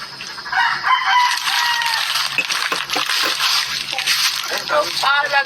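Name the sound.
bird, likely a rooster crowing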